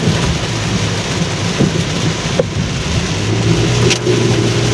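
Heavy rain drums steadily on a car while it drives along a Dhaka flyover, a dense, loud wash of rainfall with low road and engine rumble underneath and no talking.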